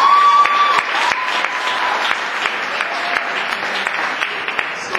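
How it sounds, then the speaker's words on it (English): Audience applause for performers at a Martin Luther King Jr. celebration, sustained crowd clapping at moderate loudness from a hall, with a brief tone at the start and faint voices. "Let's give another round of applause for them."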